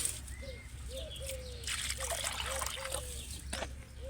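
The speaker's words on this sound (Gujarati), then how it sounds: "હજી થોડું પાણી મેળવું પડશે." Water trickles and dribbles steadily into a bird water dish as it is poured and rinsed outdoors in summer, a close, continuous splashy flow with faint bird chirps in the background.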